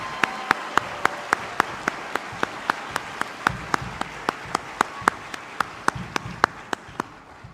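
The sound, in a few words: applause and drums at police graduation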